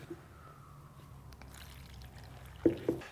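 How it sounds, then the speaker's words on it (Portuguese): Water trickles gradually into flour for bread dough with a soft, thin pour near the start, then quiet handling noises and two sharper splashy bumps near the end. "E ir adicionando água aos poucos, até eu perceber que a farinha está num ponto e a massa está num ponto legal."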